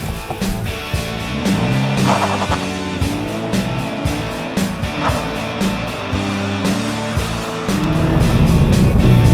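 Car on a test drive with a short stubby gear stick, engine droning and revving through gear changes over road rumble, loud and close from inside the cabin, building toward the end.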